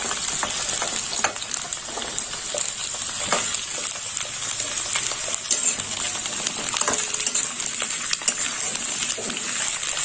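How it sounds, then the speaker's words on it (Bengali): Mixed vegetables, including beans, capsicum and sweet potato, stir-fry together in a pan for a vegetarian panch phoron dish: a continuous close sizzle broken by frequent clinks and scrapes of stirring, with no talk over it. "সমস্ত সবজিগুলো একসাথে ভাজা হবে।"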